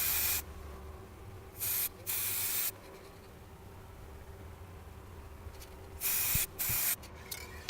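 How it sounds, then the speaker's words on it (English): Spray varnish hisses from an aerosol can onto a model in several short, close bursts, separated by quiet pauses. "I will finish the spray varnish"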